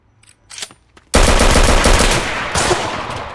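Gunfire from a revolver in a video game: a few faint distant reports, then a loud, sustained burst of close rapid shooting that continues to the end.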